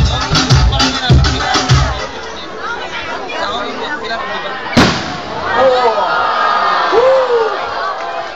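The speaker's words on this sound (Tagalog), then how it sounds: "Hope you guys enjoy the fireworks display" Fireworks at a town fiesta pop and crackle in a series of bursts, with one sharp loud bang midway, under continuous crowd chatter and scattered cheering and whistles.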